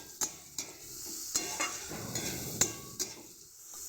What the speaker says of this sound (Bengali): ভালো করে পেঁয়াজটা ভেজে নিয়ে আর একটু তেল দেবো